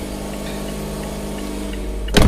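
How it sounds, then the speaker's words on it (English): A parked car's engine idles with a low, steady hum throughout, then a brief louder burst of noise near the end. "But y'all can hear that my car is on."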